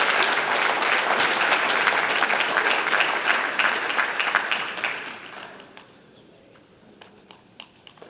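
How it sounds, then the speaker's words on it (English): An audience at a high school basketball awards ceremony applauds for the Columbus High Blue Devils, a dense burst of clapping that thins out after about five seconds into a few scattered claps. "Let's clap it up for the Columbus High Blue Devils."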